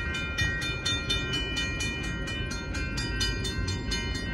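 A northbound Union Pacific sand train passes at the Oltorf Street crossing in Austin, Texas. It rumbles loudly and close, with a quick, regular clickety-clack of wheels over rail joints and no voices.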